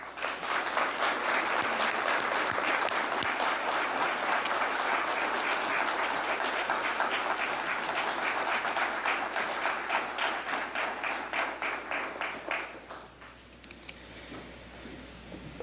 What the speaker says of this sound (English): Could we please have a round of applause for Bosun Gari?